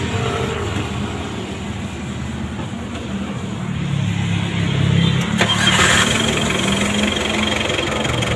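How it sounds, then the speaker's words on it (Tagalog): A small engine is cranked and fires up during low-power troubleshooting, rising from a rough churn into a louder, steady running rumble close by, without speech. "Sige, subok, andar ulit."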